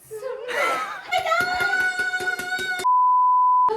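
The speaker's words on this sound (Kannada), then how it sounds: "ಇದೆಲ್ಲ ಬೀಪ್ ಸೌಂಡ್ ಹಾಕಿರ್ತೀನಿ" A loud, steady electronic censor beep tone rings out for about a second near the end, following a busy stretch of chatter, laughter and rhythmic noise from people talking.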